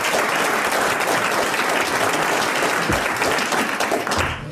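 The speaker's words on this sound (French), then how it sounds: "Vous applaudissez Madame Grandrue" A television studio audience gives Madame Grandrue a burst of loud, dense applause, many hands clapping together at close range and fading out at the very end.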